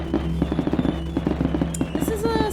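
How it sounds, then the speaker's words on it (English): A fireworks show at an event in the Bendy Secrets of the Machine video game, a rapid crackling string of pops and bursts with whistling rockets, loud and close, with talking over it. "They didn't have to do the fireworks show."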